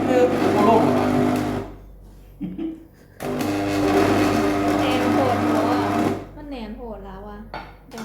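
An electric blender whirs loudly while blending white fingerroot (krachai) juice, with two long runs of motor noise separated by a brief pause, then cutting off as a person talks.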